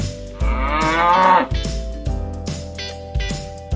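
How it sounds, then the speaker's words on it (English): A cow lets out a loud, close, drawn-out moo, and shorter tonal sounds follow in a farm-animal sound sequence for children. "Cow."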